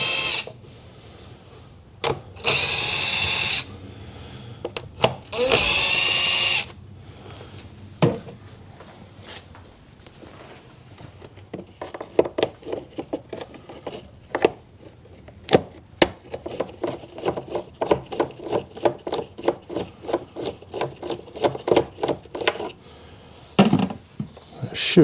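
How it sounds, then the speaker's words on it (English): Impact gun with a 7mm socket undoing bolts on the air box of a 2014 Ford Focus 1.6 diesel, two short loud bursts near the start, followed by scattered clicks, knocks and handling clatter. "I've got my gun here with a 7mm socket on it"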